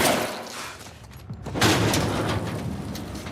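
A gunshot in The Last of Us Part II: one loud booming shot about midway, over steady rumbling game ambience.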